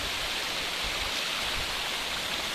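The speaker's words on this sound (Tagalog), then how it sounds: "Umuulan po ngayon." Rain pours on an open farm lot in Plaridel, Quezon, a dense, even hiss of drops filling the air without a break, loud and close, with no talk.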